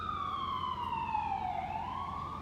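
Emergency vehicle siren gliding downward in pitch and then starting to rise again, moderately loud and continuous above a low rumble of traffic.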